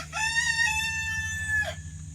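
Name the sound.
chickens clucking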